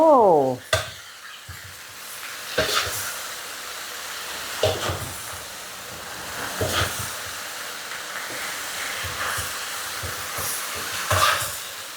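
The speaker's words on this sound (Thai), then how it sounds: "แป๊บเดียวก็สุกแล้วค่ะ ผัดผักคันจองใส่หมูค่ะ" Kan jong vegetable and pork stir-fried in a hot pan, with a steady sizzle and frying hiss broken by repeated scraping strokes of the spatula, close and fairly loud with no talk.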